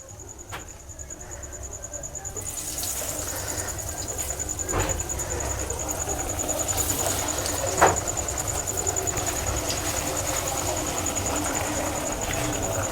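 Vegetarian vegetable chops drop one by one into hot oil over a low flame, setting off a steady close sizzle that swells after a couple of seconds and keeps crackling evenly, with a thin whine running through it.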